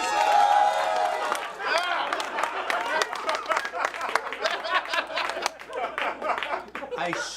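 An audience at a live comedy show claps and cheers, a burst of scattered hand claps and crowd noise mixed with voices and chatter that stays fairly loud throughout.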